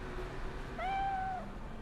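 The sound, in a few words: cat meowing in the video game Cyberpunk 2077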